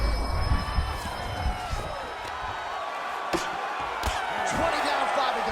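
Arena crowd in the UFC 5 fighting game roars and cheers throughout a fight, a broad continuous swell with scattered sharp impact thuds from the action, partly under a commentator's voice.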